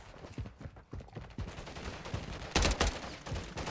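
Rapid bursts of Striker gunfire in Modern Warfare 3 multiplayer, a string of sharp repeated shots with a louder, denser volley near the end, no talking.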